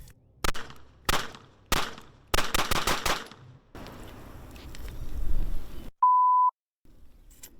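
A Glock 43X pistol fires after a muddy water test: a handful of sharp single shots, then a rapid cluster of reports, followed by gritty handling noise and a brief electronic beep.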